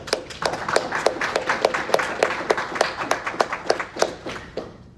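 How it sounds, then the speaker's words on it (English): An audience at a city State of the City address claps in a short round of applause, a steady patter of hands that rises and then thins out over a few seconds. "let's all give him a round of applause"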